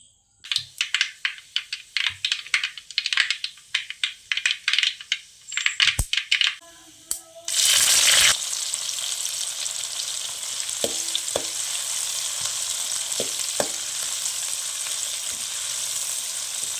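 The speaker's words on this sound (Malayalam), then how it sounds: "ഇനി കടുകും ഉലുവയും കൂടി വറുത്തിട്ട് ഇതെല്ലാം കൂടി മിക്സ് ചെയ്ത് ചൂടാക്കട്ടെ." Mustard seeds and fenugreek roast in a pan for a pineapple pickle: a few sharp clinks and scrapes at first, then a loud, steady, close sizzle that fills the rest of the clip.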